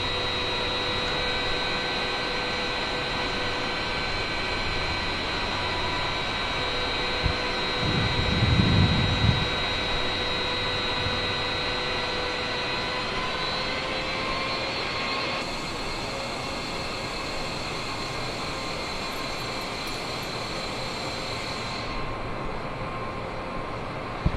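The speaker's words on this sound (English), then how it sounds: "It's kind of cool to watch the gear come down." Airliner in a flight simulator game on approach into Las Vegas, with a steady loud jet engine drone throughout and a brief low rumbling thump around the middle as the landing gear comes down.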